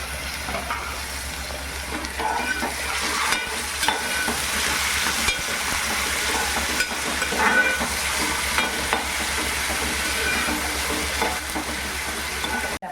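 Tomatoes are fried and stirred into garlic, ginger and chilli for a cauliflower, pea and drumstick bhaji, a steady close sizzle with periodic scraping stirs of the pan throughout.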